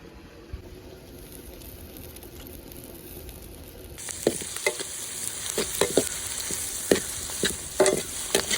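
Onions, green chillies and curry leaves fry in a pan, a steady close sizzle that grows louder halfway through as more goes in. A spoon scrapes and stirs against the pan in irregular strokes. No one speaks.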